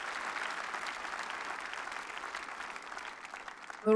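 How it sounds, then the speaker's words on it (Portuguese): A church congregation claps loudly in praise during a sermon, a dense, sustained applause that carries on evenly before a voice breaks in at the very end. "Aplauda bem forte a Jesus Cristo"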